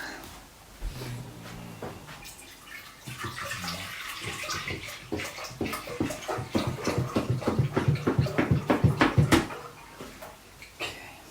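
Whole milk glugs and splashes as it is poured into a big pan, starting with a few clunks and handling knocks, then a steady pour that grows into rapid rhythmic gurgling before stopping, close and moderately loud.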